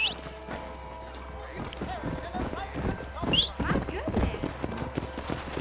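Horse hooves clatter in a steady clip-clop rhythm within Red Dead Redemption gameplay, mixed under game dialogue and someone talking over it, with occasional horse snorts and background music.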